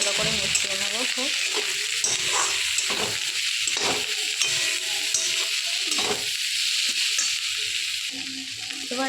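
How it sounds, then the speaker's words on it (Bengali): Spices and rajma frying and being stirred together in a pan make a loud, continuous sizzle and hiss broken by repeated scraping stirs, close up and constant throughout, with no talking. "এবার একসাথে ভালো করে মিশিয়ে নেবো সব।"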